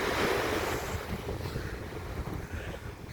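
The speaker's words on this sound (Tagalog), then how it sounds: "Ayan ang dagat ng Barreto." Sea surf rolling in at Barreto, a steady broad wash of waves heard from the shore near a pier, mixed with gusty wind buffeting the microphone and no talking.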